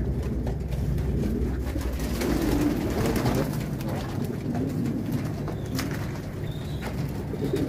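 Pigeons coo in a farm loft holding white, silver and red meat-breed birds, a dense, continuous low cooing from many birds close by, with no talk.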